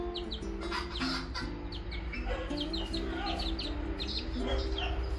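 Young bantam chickens a little over two months old, a pair of the Vietnamese Gà tre bắc breed, give repeated soft clucks and short chirps close by, over a steady low background hum.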